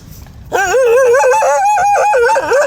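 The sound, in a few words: dogs barking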